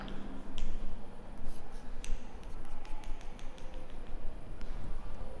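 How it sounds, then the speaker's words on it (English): Pen or marker scratching across paper while drawing a parallel line during a Class IX mathematics lesson, with a continuous scratchy stroke and light taps and clicks throughout, close and steady under a faint room hum. "through M you need to draw one more parallel line."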